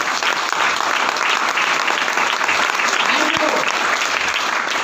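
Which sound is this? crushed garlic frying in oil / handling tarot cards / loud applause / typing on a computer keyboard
loud applause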